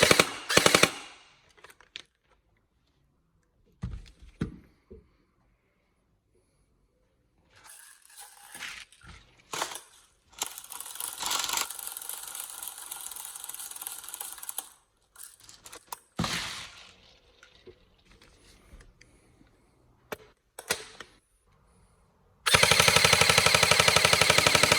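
A G&G CMF-16K airsoft electric gun fires in bursts of rapid mechanical buzzing, with gaps of quiet between them, close and loud, ending in a long sustained volley.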